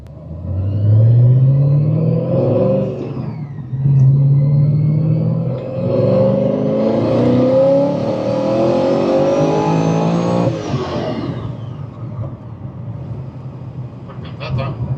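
A Rotrex-supercharged fifth-generation car accelerates hard, its engine note climbing repeatedly through several gear shifts with brief drops between them, loud and close from inside the cabin, with supercharger whine rising over the engine roar.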